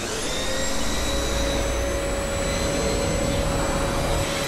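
Steady, loud vacuum-cleaner drone used as a sound effect, continuous and unbroken with a thin high whine above a broad roar, heard alone with no talking.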